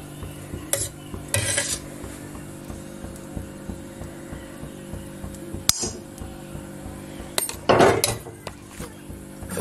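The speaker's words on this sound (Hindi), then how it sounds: "थोड़ा सा तो मैंने सूजी ले ली है थोड़ा सा घी डाल देती हूँ कढ़ाई में" A metal spoon stirs semolina with ghee in a kadhai while making upma, giving soft scraping and sharp clinks against the pan at irregular intervals over a low steady hum, mostly without talk.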